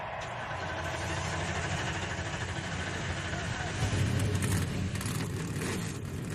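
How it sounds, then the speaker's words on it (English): NASCAR stock car engines at the 2014 Kobalt 400 rumbling together at idle in a dense, loud, continuous roar, swelling slightly midway, with a voice talking over the noise. "start your engines"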